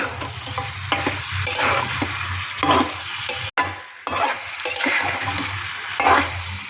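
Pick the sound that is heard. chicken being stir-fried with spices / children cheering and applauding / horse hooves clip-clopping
chicken being stir-fried with spices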